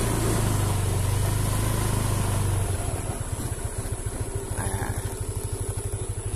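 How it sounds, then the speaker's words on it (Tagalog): A motorcycle engine on a rural road is heard, first a loud steady hum and then a faster rhythmic idle putter that continues close by. "So, iwan ko muna dito yung motor ko."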